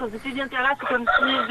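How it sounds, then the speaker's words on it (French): A rooster crows repeatedly in the background, its drawn-out calls partly masked by a French-speaking voice talking over them at close range. "C'est un coq qui chante tout le temps, ça"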